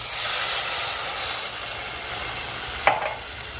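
Sri Lankan curry sizzling and hissing in a pan as it is stirred, a steady close steamy hiss that eases off, with one brief scrape near the end.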